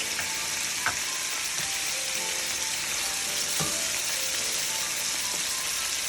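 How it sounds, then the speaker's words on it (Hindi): Chicken, potatoes, garam masala and garlic fry in a pot with a steady, full sizzle, close and unbroken, with a couple of soft stirring knocks and no talk. "मैंने आलू और ये गरम मसाला और ये अपनी चिकन डाल दिए।"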